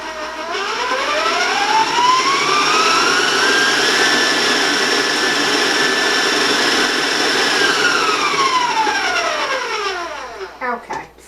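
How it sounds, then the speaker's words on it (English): A stand mixer with a paddle attachment beats chocolate into cookie dough at fast speed, a loud steady whine that rises in pitch, holds, then winds down and stops near the end. "So I'm going to beat that chocolate in now. I'm going to warn you about the sound because I'm going to go to a fast speed."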